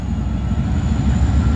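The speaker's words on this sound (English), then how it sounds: "That train is moving." A train rumbles past with a steady, heavy low roar and rattling, continuous throughout, with no one speaking.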